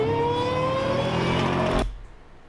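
A supercharged Mopar engine revs up loudly with a rising, high-pitched supercharger whine over the deep engine roar, then cuts off abruptly near the end, leaving near silence.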